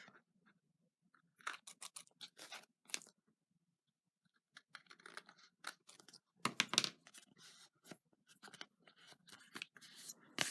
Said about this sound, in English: And trim any other pieces off that you may have.